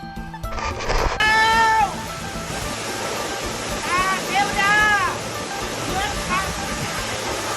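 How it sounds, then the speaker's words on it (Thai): A stream rushes near the Tad Fa waterfall in Laos, a steady broadband wash of flowing water throughout, with voices calling over it in the foreground. "เสียงลำธารที่เรียกร้อง"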